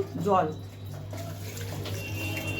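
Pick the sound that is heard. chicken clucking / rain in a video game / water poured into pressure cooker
water poured into pressure cooker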